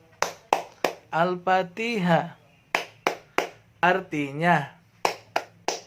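Children clap their hands in rhythmic groups during the Tepuk Al-Fatihah clapping song, sharp bursts of claps alternating with a voice chanting the words.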